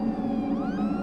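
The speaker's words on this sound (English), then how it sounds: "looked towards the sound of the siren, which sounded closer than ever" Wailing emergency siren in a woodland camping setting, a steady loud tone with rising pitch sweeps, heard alone without any voices.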